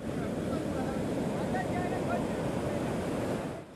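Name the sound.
rough sea waves surging during Cyclone Nilam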